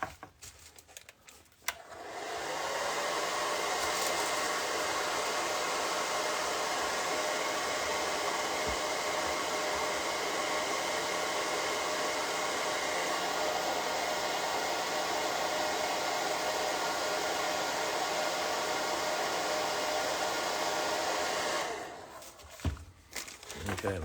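A hair dryer blows steadily at close range for about twenty seconds while drying paint on a drawing, switching on and off with a sharp start and end.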